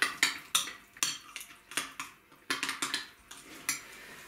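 A spoon scrapes and clinks against a bowl in quick, uneven strokes, close and fairly quiet, as spices including paprika are stirred.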